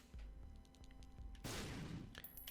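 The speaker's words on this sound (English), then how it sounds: "I will put a bomb down to blow up the Nickelman" A bomb detonates in the video game The Binding of Isaac: Afterbirth Plus, a sudden broad blast with a hissing, crackling tail after a few faint rhythmic game thuds.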